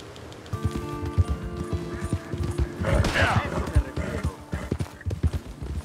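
Horse hooves clip-clop steadily on the ground in Red Dead Redemption 2, a dapple gray horse walking at an even rhythm, close and clear, with a brief neigh or snort in the middle and someone talking over it.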